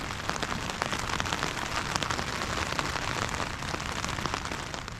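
Heavy rain drums on a tent through a stormy night in the high mountains of Eryri, a dense, unbroken patter of drops beating on the fabric close by, steady and loud with no voices.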